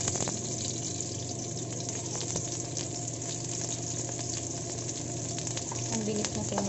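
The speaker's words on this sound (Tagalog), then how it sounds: "Ang bilis na sunog ng bawang." Garlic and onions sizzle steadily in a hot pan, a dense continuous frying hiss with scattered pops and spatters, fairly quiet and with no voices over it.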